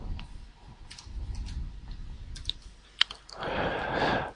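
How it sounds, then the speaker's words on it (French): Keys tapped on a computer keyboard while entering text, a quiet, sparse run of light clicks in a hushed room, ending in a brief rush of broadband noise. "on va simplement taper le texte qu'on désire"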